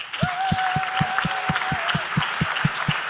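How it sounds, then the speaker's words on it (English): School assembly audience applauding, steady clapping at a brisk rhythm filling the clip, with a faint voice carrying briefly over it. "can we give a round of applause for such a good 4 betters project?"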